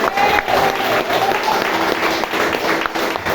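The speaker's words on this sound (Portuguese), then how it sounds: "Bata palmas para Jesus." Congregation at an Assembleia de Deus church service clapping hands for Jesus, a dense, steady wash of applause filling the room with voices mixed in.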